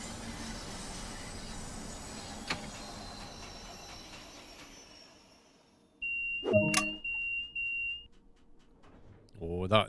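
A train cab warning beeps in the Train Sim World 2 video game: a sustained electronic tone sounds loudly after background rumble fades, followed by a burst of further noise at the end.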